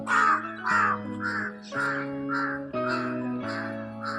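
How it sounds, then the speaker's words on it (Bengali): Large crows caw in harsh, loud calls repeating in quick bursts over a steady tonal hum of music, each caw close and prominent. "কি বড় কাক ডাঁড় কাক ঘুরছে"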